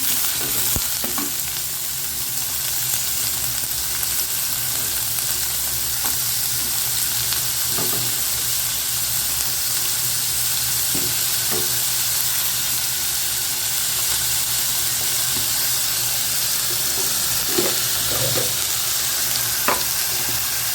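Onions sautéing in a pan for a spicy paneer gravy, giving a steady, close sizzle with occasional stirring scrapes and clicks throughout, with no talking.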